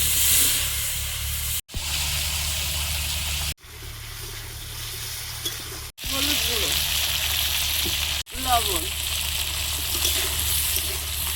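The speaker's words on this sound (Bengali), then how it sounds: "ওই তেলে কালো জিরে দিয়ে দিচ্ছি চেরা কাঁচা লঙ্কা আলু" Black cumin, slit green chillies and potato fry in hot oil, a loud, steady close sizzle broken by a few short cuts, with faint voices in the background.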